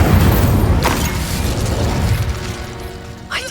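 An Incendio fire spell cast in Hogwarts Legacy gives a loud whooshing, rumbling burst with mechanical crackle that fades, then a brief sharp pop near the end.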